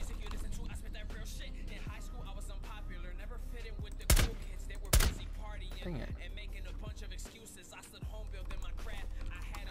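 Rainbow Six Siege gunfire, two loud sharp shots standing out over quieter game sounds, with a voice talking throughout.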